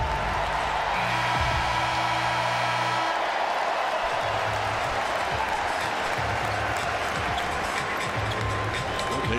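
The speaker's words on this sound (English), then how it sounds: "that's why you hear this applause right now for him." Crowd applause and cheering fill a basketball arena during a break in an NBA game, a loud continuous roar of many hands with arena tones and low thumps underneath, voices mixed in throughout.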